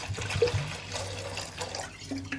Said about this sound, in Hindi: और साथ में इसमें पानी डालूंगी।